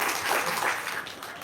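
A seminar audience breaks into steady applause, a dense wash of clapping filling the room for a short moment without talk.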